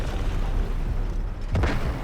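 An explosion in the video game Delta Force: a continuous low rumbling roar, then a sharper, louder blast bursting near the end.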